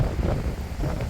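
Strong wind blowing outside a mountain bothy in Snowdonia: a loud, continuous, gusty low rumble buffeting the microphone, with no voices.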